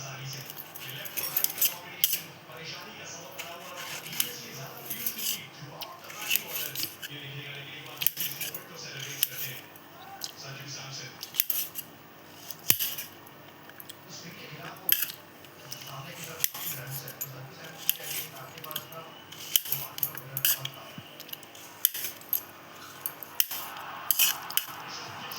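A knife cuts raw green tomatoes for a chana dal vegetable dish, giving repeated irregular taps and clicks on a board amid kitchen clatter, close and moderately loud, with speech in places.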